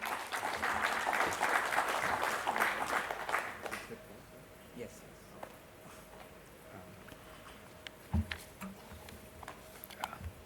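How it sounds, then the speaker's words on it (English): Applause from a construction technology day audience welcomes a panelist on stage, a loud burst of many hands that fades out after about four seconds, leaving a quiet room with scattered small knocks and a low hum. "With a big applause, please welcome Kalyan Vaidyanathan on stage."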